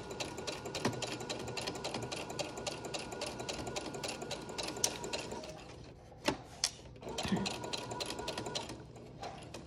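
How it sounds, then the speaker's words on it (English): Sewing machine stitching over rope on fabric for a DIY face mask, a steady close rapid needle chatter running nearly throughout, briefly pausing near the middle before resuming. "tuck it up against the needle, and we are going to stitch over it"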